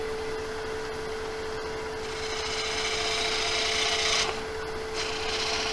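A wood lathe spins a bowl blank from a log while a tool takes a thin cut, steady scraping and rasping over a constant motor hum, growing brighter midway then easing off.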